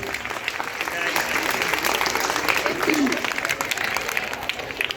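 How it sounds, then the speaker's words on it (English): Audience applause at a Secondary Board High School prize-giving ceremony: a dense, steady wash of many hands clapping that holds for several seconds, with voices murmuring beneath it. "give me a big clap to Shipra Shotpathy"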